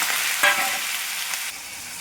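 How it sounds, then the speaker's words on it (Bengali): Dried fish hits hot oil with nigella seeds, bursting into a loud hissing sizzle that carries on steadily, with a couple of sharper crackles and stirring sounds. "এই যে আমি তেলের উপরে কালো জিরে সম্বার দিয়ে মাছগুলোকে দিয়ে দিই।"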